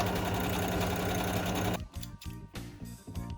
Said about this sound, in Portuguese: Pra fazer um pesponto aqui dos dois lados.